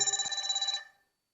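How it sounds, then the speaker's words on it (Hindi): A telephone rings during a spoken lecture, a loud, bright electronic trill that pulses rapidly for under a second and then cuts off into silence. "फोन आ रहा है, सॉरी उसके लिए।"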